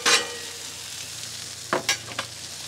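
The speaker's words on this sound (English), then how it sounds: "a little bit more oil, and this right here is just our peppers, our vegetables. Okay, we're gonna fry those up." Peppers and vegetables fry in oil on a Blackstone griddle, giving a steady close sizzle with a few short scraping bursts from a spatula near the end.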